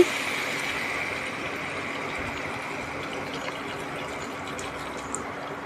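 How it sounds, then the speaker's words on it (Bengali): Steady stream of water poured into a pan of spiced vegetables for a curry, a continuous close hiss and trickle running evenly throughout with no voices. "এবার জল দিয়ে দিচ্ছি"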